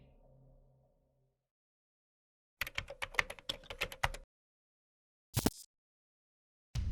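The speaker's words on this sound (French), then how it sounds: "j'entendais souvent quelqu'un taper sur le clavier de l'ordinateur qui se trouvait au rez-de-chaussée" Keys on a computer keyboard are tapped in a quick, uneven burst of clicks in a quiet room, then two isolated key strikes come after short pauses.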